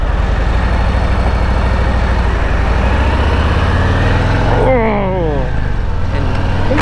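A Harley-Davidson Road Glide Ultimate with a Milwaukee-Eight 114 engine drones low and loud while riding, with a rising shift in pitch partway through. A voice talks over the engine.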